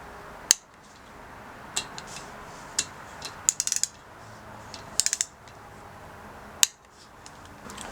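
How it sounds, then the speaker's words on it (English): Torque wrench tightening bolts on a 2002 Triumph Bonneville America engine during a motor rebuild, sharp metallic clicks and ratchet snaps spaced irregularly, some in quick clusters, over a quiet workshop background. "you want to torque these down to 10 Newton meters"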